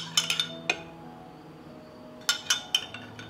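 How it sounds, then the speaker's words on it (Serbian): A spoon clinks against glass jars as lemon juice goes into each one. Two clusters of bright, sharp taps are separated by a quiet gap, close and clear with no talking. "I u svaku teglu ću sipati po jednu supenu kašiku limunovog soka."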